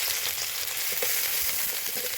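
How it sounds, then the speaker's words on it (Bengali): Chopped onion frying in hot oil for an egg tarka gives a steady, close, dense sizzle with a constant crackling hiss and no voices. "সবার আগে এখন আমি একটু পেঁয়াজ কুচি দিয়ে দেবো।"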